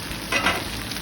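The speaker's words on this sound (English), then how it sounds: "our beans have fried well" Fish and green beans fry in a pan for a fish masala with eggs, giving a steady close sizzle that swells briefly in the middle of the second, with no voices.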